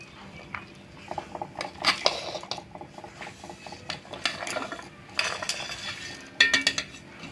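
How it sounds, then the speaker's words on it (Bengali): Spices, including fried black cumin and poppy seeds, are ground on a stone sil, giving repeated rhythmic scraping and grinding strokes, with close clinks and gritty rubbing that rise and fall in bursts. "তো আমি এগুলো সব শিলে নিয়ে নিচ্ছি"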